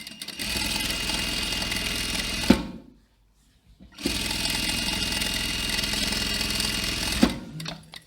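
Sewing machine stitching pintucks in fabric, two loud steady runs of rapid whirring with a brief quiet pause between them, close and alone.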